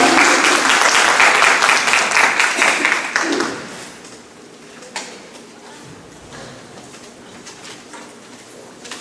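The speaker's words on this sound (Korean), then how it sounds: "박수 좀." Audience at a seminar gives a burst of encouraging applause that fades out after a few seconds, leaving a quiet room with occasional small knocks.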